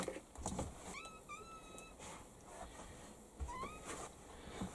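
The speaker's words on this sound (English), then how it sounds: "I don't know if you can hear my cat. He wants to come in." A cat meows twice from a little distance, a rising drawn-out call followed by a shorter one, faint over background noise.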